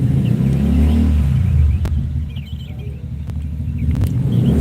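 A motorcycle goes by on the road outside a roadside house, a loud close engine rumble that swells and then fades away, with faint bird chirps in the background.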